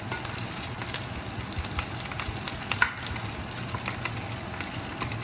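Bacon fries in a frying pan, a steady close crackling sizzle with scattered sharper pops, one brief louder snap near the middle, continuing without any voices.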